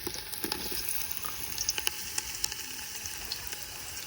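Potatoes frying in hot oil for a village-style biryani, a continuous close sizzle with scattered sharp pops and crackles, no voices.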